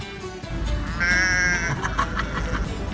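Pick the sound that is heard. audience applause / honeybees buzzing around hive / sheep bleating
sheep bleating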